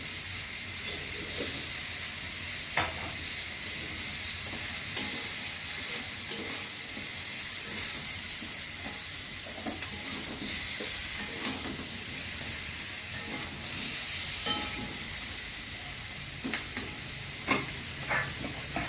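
Green chillies and turmeric sizzling steadily in hot oil in a pan for fish curry, a constant close frying hiss with occasional soft scrapes and stirring clicks and no talk.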